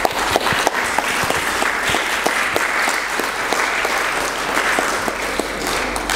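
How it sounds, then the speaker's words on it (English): Sustained applause from an audience at a Sikh art and heritage exhibition, dense steady clapping with a few sharper claps standing out, loud and continuous throughout. "So a round of applause for the parents."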